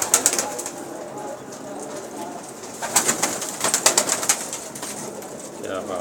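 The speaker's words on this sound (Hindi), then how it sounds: "मुझे बहुत पसंद है इनके कबूतर जी" Sialkoti pigeons coo in soft, repeated throaty calls, moderately close. Brief wing flutters and light rustling are heard against a quiet background.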